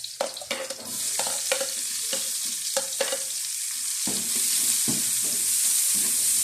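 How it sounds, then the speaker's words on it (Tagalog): Garlic browns in a frying pan with a spatula tapping and scraping through a bright sizzle; partway through, chopped onion drops in and the frying swells into a louder, denser hiss. "Brown natin ang bawang, papula-pulahin natin."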